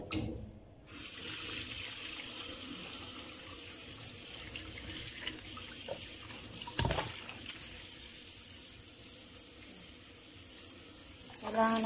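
Meat is washed under a running kitchen tap, a steady close splash and hiss of water into a sink that continues throughout, with a brief clatter partway through.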